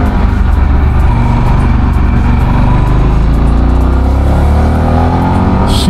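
Harley-Davidson Pan America 1250 motorcycle pulls hard out of a hairpin in third gear, its engine note loud and close, rising steadily in pitch over several seconds with continuous rumble and no voices.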